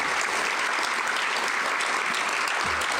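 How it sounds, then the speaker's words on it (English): Applause from an audience at a school foundation fundraising event, dense continuous clapping filling the whole three seconds with no break. "Can we get a round of applause for the angel donors in the room?"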